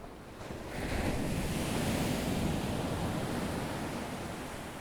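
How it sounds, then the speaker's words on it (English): Ocean waves crash and wash onto a beach as a steady, broad surf roar, swelling slightly after the first second and holding, with a light breeze mixed in; no voices. "in the background, you hear the sound of the waves crashing, moving along"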